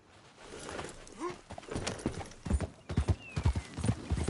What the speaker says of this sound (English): I'll take his horse.